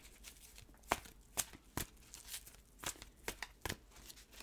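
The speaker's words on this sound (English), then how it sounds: "I'm shuffling the Angel Oracle cards for you." Angel Oracle cards being shuffled in quick riffling bursts, soft papery flicks and snaps at irregular intervals, close and fairly quiet with no talking.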